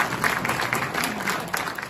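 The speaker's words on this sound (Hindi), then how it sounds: "चोरों के लिए ताली बजाओ एक बार।" An audience at a training session applauding together, a brief burst of dense, steady clapping heard at moderate distance.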